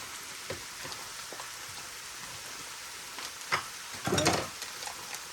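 Butter sizzles in a very hot stir-fry pan, a steady hiss with scattered pops and louder bursts of spatter near the end, no voices.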